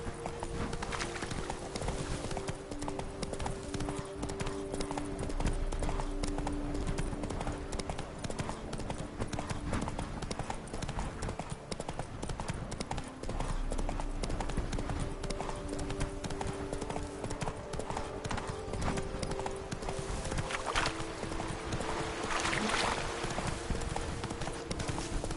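The horse Roach gallops in a PS4 video game, its hooves pounding out a fast, steady clip-clop that runs unbroken for the whole stretch over a dense background of game ambience.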